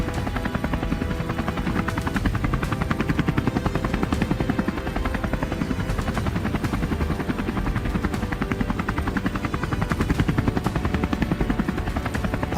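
A helicopter flies over devastated farmland during a wild boar hunt, its rotor beating in a steady, fast rhythm that stays loud and unbroken throughout, with no voices over it.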